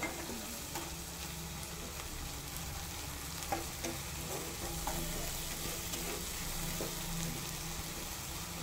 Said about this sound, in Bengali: আদা রসুনটা একটু ভাজা ভাজা করে নেব,